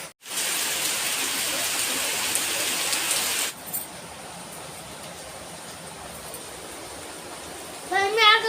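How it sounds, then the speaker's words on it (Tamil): Heavy rain pours down in a dense, steady hiss that suddenly drops to a softer, lighter patter partway through, with a faint voice near the end. "செம்மையான மழை பெய்யுது கண்டு"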